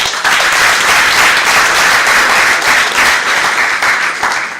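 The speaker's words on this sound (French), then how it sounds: "Applaudissez-vous." Loud, steady applause from a ceremony audience marking International Women's Day at a labour ministry, dense clapping filling the whole stretch without letup.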